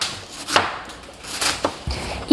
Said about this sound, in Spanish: Y estoy picando unos rabanitos en rodajitas también.